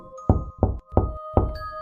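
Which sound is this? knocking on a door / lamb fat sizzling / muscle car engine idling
knocking on a door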